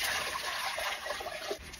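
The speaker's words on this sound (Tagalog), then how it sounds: "Lagay natin and then lagyan ng tubig." Water poured from a tap into a clean cooking pot, a steady close rushing splash that holds for the whole moment, with no talking.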